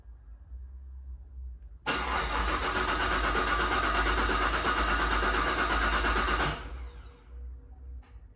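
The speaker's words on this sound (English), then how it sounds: "Sounds like a car that needs gas." A Camaro with a Whipple supercharger, low on gas, cranks and struggles to start: a sudden loud, steady grinding churn of the starter runs for several seconds, then cuts off into quiet hum.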